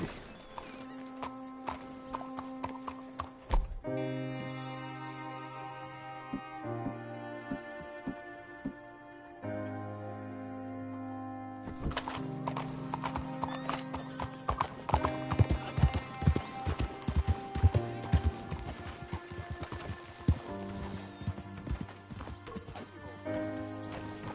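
Horse hooves clip-clop at a galloping rhythm over a musical score in Red Dead Redemption 2, with a brief pause midway before the hoofbeats and music resume louder.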